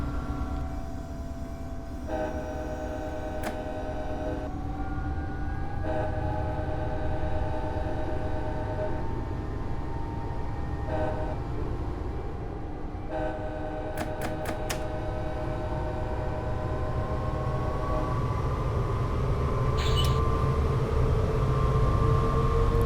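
A diesel passenger train coasts on idle power in Train Simulator 2015 on the Pacific Surfline route from Irvine to Oceanside. A steady low rumble of wheels and engine runs throughout, with several horn tones and short high clicks, and no talk.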